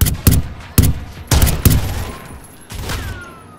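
Close, loud bursts of automatic gunfire in the tactical shooter Zero Hour: several rapid volleys with short pauses between them, and a faint ringing tail as the shooting stops.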